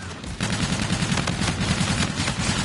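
Sustained rapid automatic gunfire from the shooter video game Call of Duty: Infinite Warfare, loud and dense, firing continuously after a brief quieter opening.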